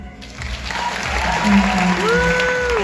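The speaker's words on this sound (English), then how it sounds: "a big round of applause for our top 5" Audience applause at the Miss Universe Canada 2026 pageant finals, a steady wash of clapping from a large crowd that swells slightly, with faint music underneath.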